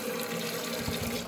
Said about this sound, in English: I'm gonna show you how I wash these things